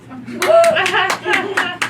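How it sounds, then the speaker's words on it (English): A lone person clapping in a comedy club audience, about five or six distinct, fairly close claps in a slow uneven rhythm, with a voice speaking over the start. "Still one person clapping"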